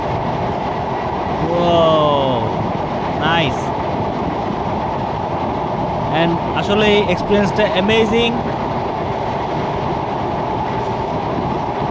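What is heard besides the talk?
train running across the Padma Bridge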